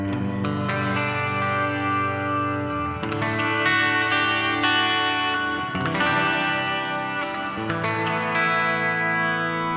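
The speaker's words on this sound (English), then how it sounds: "just going to go through a couple of open chords." A Donner DLP-124S Les Paul-style electric guitar strums open chords, processed with shimmering chorus and slight distortion, each chord ringing out loudly and sustaining.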